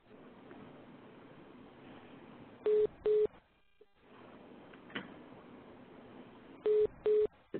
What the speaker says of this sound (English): I think that might be someone's hold button beeping at us